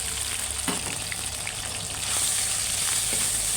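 Pork belly and garlic sizzle steadily in a little oil in a pan, a continuous close crackle with a few stirring clatters and no talking.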